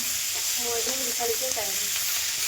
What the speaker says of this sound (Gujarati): તો ડુંગળી શેકાય છે ને એની ગ્રેવી બનશે